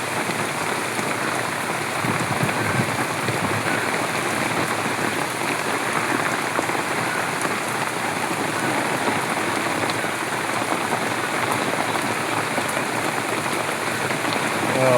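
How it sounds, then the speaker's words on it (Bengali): Heavy rain falls steadily outdoors, a dense, even hiss of drops on surfaces that holds at a constant loud level throughout, with no voices or other sounds. "দেখতে পাচ্ছেন বাহিরে বৃষ্টি"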